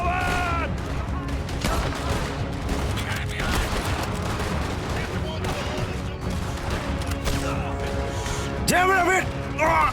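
Dense gunfire from a large Red Dead Redemption roleplay shootout in Saint Denis, a steady rolling fusillade of overlapping shots with loud close reports, while voices shout over the battle.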